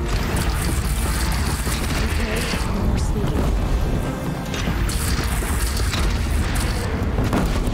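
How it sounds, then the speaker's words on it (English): Cannons firing repeatedly in the Horizon Zero Dawn video game during a city defense battle, heavy booms and blasts layered over dense, loud game noise. "Yeah, I would say those cannons work."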